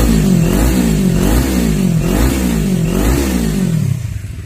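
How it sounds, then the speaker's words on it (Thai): A 2019 Kawasaki Ninja 400 ABS with a carbon Akrapovič slip-on exhaust revs in repeated loud rising-and-falling pulls, about four throttle blips in a row, with no talk, before fading slightly at the end. "เดี๋ยวผมจะพาไปฟังเสียงท่ออาคาโบวิกแบบสลิปออนว่าจะดังเพราะแบบไหนไปฟังกัน"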